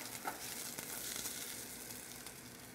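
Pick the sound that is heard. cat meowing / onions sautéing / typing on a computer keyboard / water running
onions sautéing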